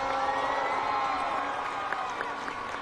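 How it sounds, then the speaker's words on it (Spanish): A large crowd at a Colombian presidential election event cheers and applauds in a continuous, somewhat distant roar, with scattered shouts and whoops rising from it. "Un aplauso para ella."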